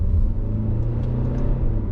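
An Alfa Romeo Stelvio accelerates on a narrow road, its engine a steady, close, low rumble that holds throughout with no voices.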